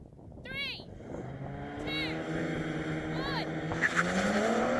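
A car launches hard off the line at a drag race, engine revving and rising in pitch as it accelerates through a gear change, heard from inside with a passenger talking over the roar.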